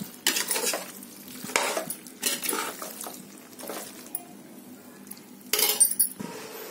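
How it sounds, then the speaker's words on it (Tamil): Country chicken dum biryani ingredients are mixed in a pot, producing intermittent scraping strokes and light metallic clinks with faint sizzling between them, fairly quiet and up close, with no voices. "ஒரு நல்லா மிக்ஸ் பண்ணிக்கோங்க."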